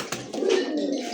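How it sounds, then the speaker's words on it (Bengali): A large Lahori pigeon coos once in a low, throaty burr, heard close and alone for just over a second. "এটা হচ্ছে লাহোরি কবুতর"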